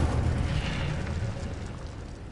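Incendio fire spell cast in Hogwarts Legacy, a loud, steady whooshing burst with deep rumbling low end that fades slightly over a couple of seconds, heard alone.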